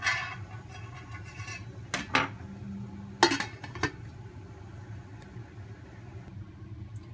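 A lid is set on a pot of simmering Filipino beef nilaga soup: a few sharp metallic clinks and clatters in the middle, over a low steady background hum, with no talking.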